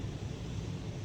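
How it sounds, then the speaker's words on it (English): An airplane drones overhead near an airport, a low, steady rumble in the background that holds level through the short moment. "As you can hear the airplane in the background."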